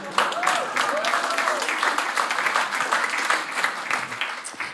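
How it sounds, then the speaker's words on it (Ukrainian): Steady audience applause fills a stand-up comedy show, dense and sustained for several seconds with a few faint voices and whoops mixed in the crowd. "Ви аплодуєте"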